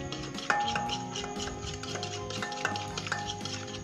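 A fork scraping and stirring cocoa powder in a bowl, giving repeated gritty rubbing strokes with small clicks, close and fairly quiet, no voices over it.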